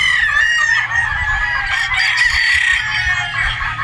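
A Boston Roundhead gamefowl rooster crows loudly and close, one long strained call held for several seconds, with soft clucking and other farmyard birds underneath.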